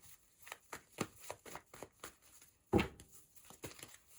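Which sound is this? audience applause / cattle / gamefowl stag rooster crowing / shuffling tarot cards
shuffling tarot cards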